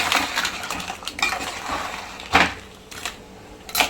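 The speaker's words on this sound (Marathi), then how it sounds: "ही पण आपण घालूया सगळं चांगलं परतून घेऊया" Crab eggs are stirred and sautéed in a pan, producing close metallic scrapes and clinks from a utensil against the pan at irregular intervals over a soft background frying hiss.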